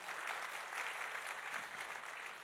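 Church congregation clapping in praise during a lively sermon, a dense continuous wash of many hands, fairly quiet and roomy, sustained without break and with no voice on top.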